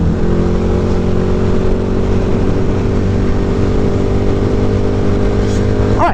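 A larger, heavier motorcycle accelerating hard onto a freeway, with a loud, steady engine drone, rising gears and strong wind rush, recorded close from the rider's position.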